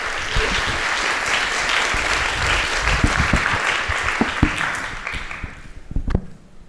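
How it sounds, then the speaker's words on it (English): Sustained applause from a conference audience closing the TQC 2019 quantum computation meeting, dense steady clapping at close range that thins and tapers away near the end. "You can all give a round of applause."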